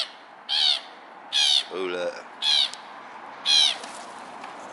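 Black-headed gulls call in a series of sharp, harmonic cries, about five in under five seconds, fairly close over steady background noise, and a person speaks briefly.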